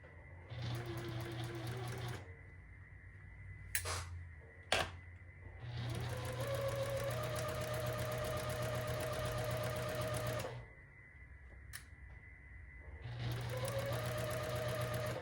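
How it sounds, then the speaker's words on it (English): A sewing machine runs in steady bursts, its motor humming with rapid stitching, pausing briefly a couple of times before starting up again. "I'm just going to run them through the sewing machine."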